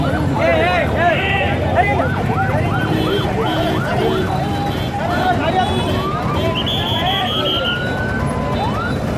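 An ambulance siren wails in repeated rising and falling sweeps through dense road noise and crowd babble at the scene of a fatal road accident in Bijapur, with voices talking throughout.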